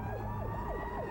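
An ambulance or rescue vehicle siren wails in a rising and falling cycle, repeating several times over a constant road rumble, loud and steady with no voices.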